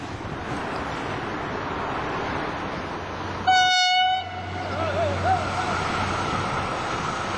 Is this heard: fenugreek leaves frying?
no